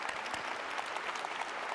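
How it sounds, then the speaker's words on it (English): Dense, steady applause from an audience at a city State of the City address in Cleveland, honoring public sector workers, with many hands clapping evenly throughout and no voices breaking through. "So let's give them a big round of applause if we can."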